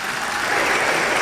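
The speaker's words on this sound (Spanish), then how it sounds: "está recibiendo el aplauso ahora y retoma su palabra en este minuto" Crowd applause fills a theatre during a political rally, a steady dense wash of clapping heard alone and fairly loud throughout.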